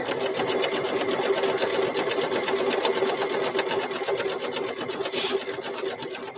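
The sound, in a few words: sewing machine stitching fabric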